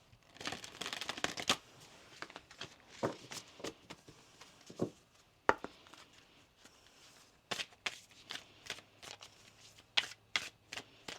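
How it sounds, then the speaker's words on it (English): Oracle cards from a Moonology deck are shuffled by hand in a quiet room, making a run of crisp riffling and flicking bursts in uneven clusters, close and fairly soft, with no talking. "One more shuffle here."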